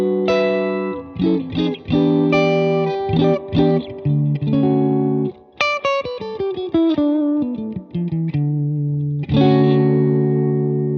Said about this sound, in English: I am running a Scythe Guitars OH19 into a Milkman Sound 20-watt creamer.